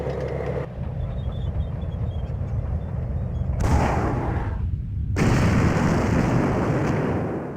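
Deep booming blasts with rumbling tails from Command and Conquer (1995) Covert Operations, the sound abruptly cutting in and out, loud and harsh.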